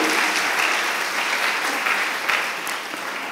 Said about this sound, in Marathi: आपण टाळ्या वाजूया आणि प्रभूला धन्यवाद देऊया